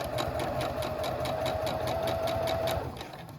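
A sewing machine stitches the fabric of a doll nightgown with a fast, even mechanical rhythm and a faint whine. It runs close and steady, then slows and stops near the end.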